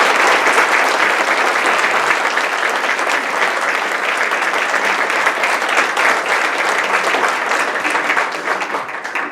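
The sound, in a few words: audience applause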